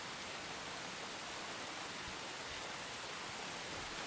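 A heavy rain downpour pours down steadily, a dense, loud and constant hiss of water with no let-up and no voices.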